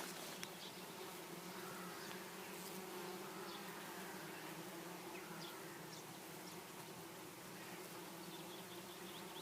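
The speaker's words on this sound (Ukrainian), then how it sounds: "От, послухайте, який гул стоїть." A dense, steady hum of many bees buzzing together near a hive, continuous and close, with individual insects flying past now and then.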